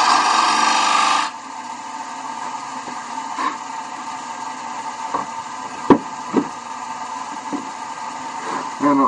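A wood lathe turns a candlestick while the tenon is squared up. A brief harsh scraping cut gives way to a quieter steady hum, broken by scattered soft taps and scrapes of the tool.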